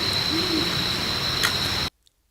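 Great horned owl in St Louis Forest Park giving a low, soft hoot over a steady hiss of background noise and insect-like whine before the sound cuts abruptly to silence.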